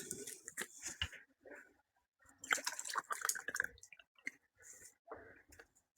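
Water pours and splashes into a cup in short bursts, with drips and clinks of ice close by, no talking.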